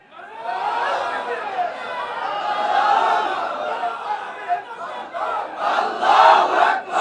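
A large crowd chants the takbir slogan together at a public gathering, many voices roaring in unison in a loud, sustained chant that swells toward the end.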